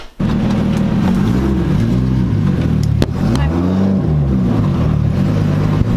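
A Lexus IS300 rolls down a driveway, its engine a loud, close, steady drone with shifting revs throughout and a single sharp knock partway through.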